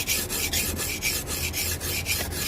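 Knife bevels being reground on a 120-grit sharpening stone while repairing a badly damaged cleaver: steady rhythmic rasping strokes, each pass a gritty scrape with brief pauses between, close and continuous over a low background hum.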